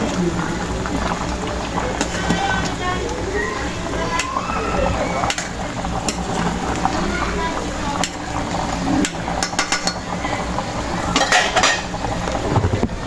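Chicken tinola boils in a pot while a utensil stirs and clinks against the metal, with a steady bubbling hiss under scattered scrapes and taps; a person talks throughout.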